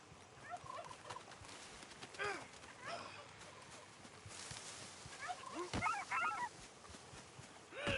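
A bird squawks and gobbles in agitated bursts while being attacked in Red Dead Redemption II, with several harsh, honking cries heard over a quiet background.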